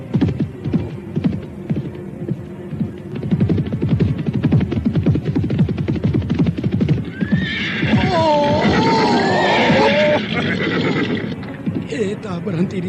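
Horse neighing in a 1940s-style radio drama scene, a loud whinny rising over a steady clip-clop of hooves and a low hum, with voices talking alongside.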